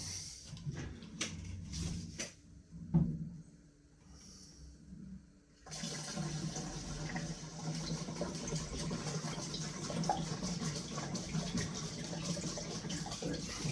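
Diesel poured from a 20-litre jerry can into a 10-litre tank, first some handling knocks and clunks, then a steady close gurgling rush of liquid filling the container for the remaining several seconds.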